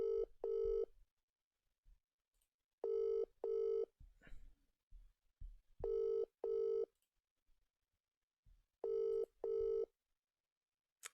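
A telephone rings out in a Football Manager session: four evenly spaced double-ring bursts, clear and alone against near silence, repeating about every three seconds.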